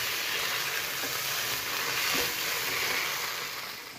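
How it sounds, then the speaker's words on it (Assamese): Paneer masala with kasuri methi sizzles steadily in a pan for home-style restaurant cooking, a continuous close hiss of frying with no voices. "এইখিনি দি পেলাই অকণমান আমি ভাজি ল'ম"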